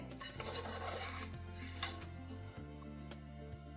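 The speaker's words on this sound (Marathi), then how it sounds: "तिखट, मीठ, मसाला सगळं घातल्यानंतर एकदा छान परतून घ्यायचंय." Ivy gourd rice with chilli powder, salt and masala being stirred and sautéed in a pan, a steady scraping, rasping rub running throughout under a low steady hum, close and fairly quiet.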